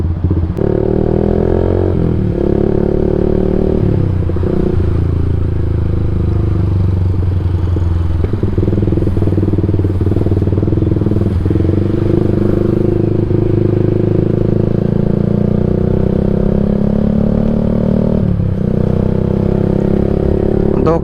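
Yamaha MX King 150 motorcycle fitted with a UB Bpro racing exhaust, idling loud and close with a deep rumbling exhaust note, lifting in a few short revs and settling back, with some clatter.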